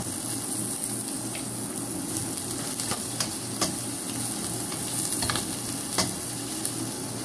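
Garlic and then onion sautéing in oil in a pan, a steady close sizzle with occasional sharp clicks of a utensil stirring against the pan, no voices.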